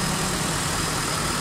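A Mitsubishi Adventure gasoline engine, running rough with a misfire and a leaking hose connection, idles with a steady low hum and a close, continuous rumble.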